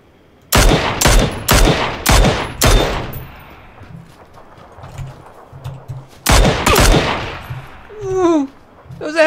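Loud, close bursts of automatic gunfire in the battle-royale game PUBG, two clusters of rapid shots with echoing tails and voices talking between and after the bursts.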